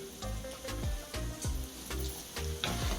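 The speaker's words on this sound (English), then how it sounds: "Give it another stir." A jackfruit dish with pimento and salt being stirred in a hot pan, soft sizzling with a series of regular scraping strokes of the spoon, close and fairly quiet.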